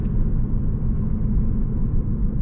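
BMW E46 car engine on a test drive, a steady low rumble of the motor and road noise heard from inside the cabin, continuous and fairly loud with no talking.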